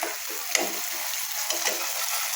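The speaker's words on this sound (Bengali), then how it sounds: "তো এখন আমি এটাকে সুন্দরভাবে কষাবো" Potato and cauliflower sauté with spices in a pan, giving a steady, moderately loud sizzle broken by a few sharp clicks of a spatula stirring.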